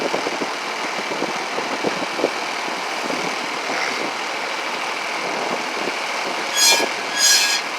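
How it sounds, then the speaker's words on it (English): Worn brake pads with metal grinding the rotor let out two short, high squeals near the end, over a constant loud engine and traffic rumble. "when you hear that noise, that means the metal is grinding the actual rotor"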